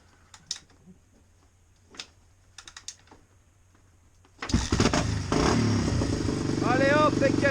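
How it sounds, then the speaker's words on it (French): A Yamaha 600XT motorcycle is kick-started: a few sharp mechanical clicks and taps, then the engine catches with a sudden loud burst and settles into a strong, steady running rumble close by. "Là normalement c'est du kick ça démarre."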